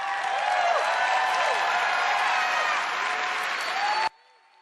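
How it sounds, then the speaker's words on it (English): Crowd applause at a Bethesda E3 presentation, a broad, sustained roar of clapping with a few cheers and whistles, cutting off abruptly near the end. "Are they clapping because he said 20 years?"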